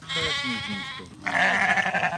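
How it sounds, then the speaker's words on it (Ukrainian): Goats and sheep at the Kyiv zoo bleat in two long, wavering calls back to back, close and clear with no talking. "Кози та вівці повиводили цілу купу малят."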